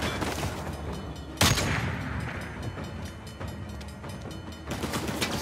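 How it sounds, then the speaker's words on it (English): A train approaches in Uncharted: The Lost Legacy, a dense, loud rumble of rolling wheels and rail noise with a sharp burst like gunfire partway through and a steady mechanical roar throughout. "Train's getting closer."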